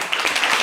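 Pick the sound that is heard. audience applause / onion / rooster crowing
audience applause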